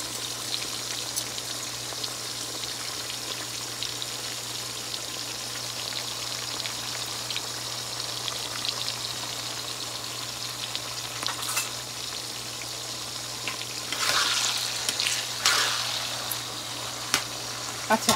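Chopped onion sizzles steadily as it fries in a pan for karahi gosht, a continuous crackling hiss with a few louder bursts near the end, heard alone with no talking.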